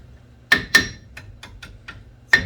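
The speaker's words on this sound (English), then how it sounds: "maybe just take a hammer and make sure" Sharp hammer taps on a brake part being seated on a Volkswagen Beetle Turbo: two loud metallic strikes, then four lighter ticks and a final strong blow, close and clear with no talking.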